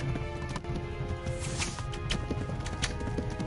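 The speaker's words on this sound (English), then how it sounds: "run, horse! Run! Run!" A horse gallops in the medieval video game Kingdom Come: Deliverance, its hooves beating a quick steady clip-clop rhythm, fairly quiet and close, with no talk.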